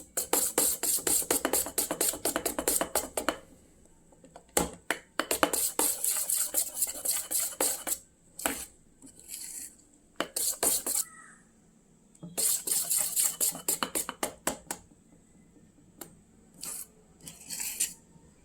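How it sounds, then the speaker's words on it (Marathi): A spoon beats cake batter against a bowl in quick, clinking bursts, stopping for short pauses before starting again. The sound is close and fairly quiet. "आता हे व्यवस्थित मिक्स करून घेऊया"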